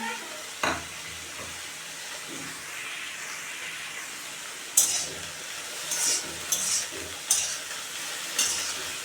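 Jackfruit seeds fry in a pan with black cumin, a close steady sizzle broken by scraping stirs and bursts of louder hissing spatter.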